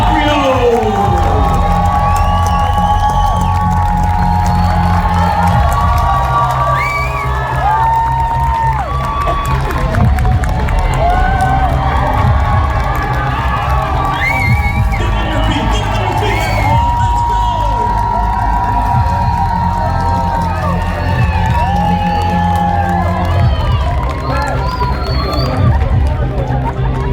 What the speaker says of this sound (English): Give it up for Vincent D Onofrio!